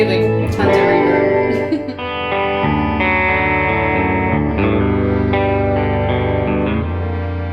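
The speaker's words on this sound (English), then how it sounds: "And reverb on the concertina too." A concertina soaked in heavy reverb plays sustained, wheezing chords that swell and blend into a long, washy tail, loud and close throughout, with no talking over it.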